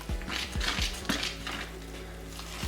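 A fork mixes pizza roll ingredients in a bowl, its quick scraping and tapping strokes rhythmic and close.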